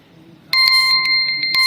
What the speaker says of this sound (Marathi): ते अलार्म लावलं तुम्ही पाणी प्यायचा